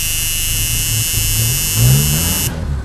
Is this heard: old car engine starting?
yes